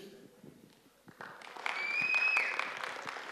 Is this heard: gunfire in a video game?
no